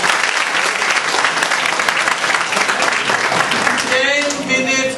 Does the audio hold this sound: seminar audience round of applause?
yes